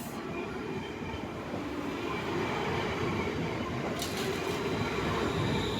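An Avanti Class 390 Pendolino and a Class 350 Desiro pull out of London Euston on a snowy day, giving a steady, close rolling rumble of wheels on rails with a brief metallic squeal near the end.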